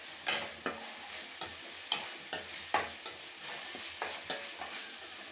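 Vatha kuzhambu, a tamarind gravy, bubbling in oil while a spoon stirs it, with a soft sizzle and about a dozen distinct scraping strokes in a loose rhythm, close by with no voices.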